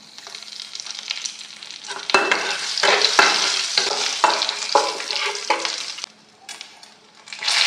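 Nigella seeds and a bay leaf temper in hot oil, first as a low crackle and then as a loud, spattering sizzle with repeated stirring scrapes. It dips briefly near the end before rising again.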